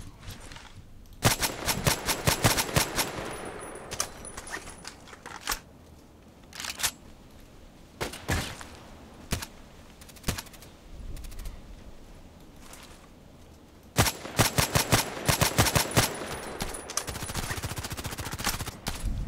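Automatic gunfire from an SVU-AS automatic sniper rifle in the shooter game Contract Wars: loud, sharp bursts of rapid shots in clusters, with quieter gaps between volleys and a long dense burst near the end.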